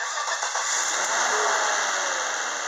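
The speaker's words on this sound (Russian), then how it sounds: "Работа двигателя на холостом ходу." A 2004 Volvo XC90 with the 2.9-litre B6294T engine idling, a steady, even hum with a faint higher whine, close and continuous throughout.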